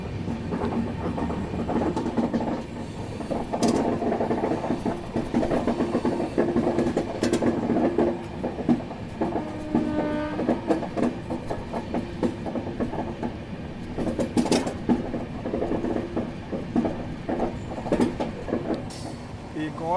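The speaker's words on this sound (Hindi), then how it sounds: "और गाड़ी यहाँ पे नीचे से निकल रही है, मतलब थर्ड ट्रैक से" An Indian Railways train runs on a ghat section, a steady rumble with rhythmic clickety-clack of wheels on rail joints, close and continuous throughout, with faint voices underneath.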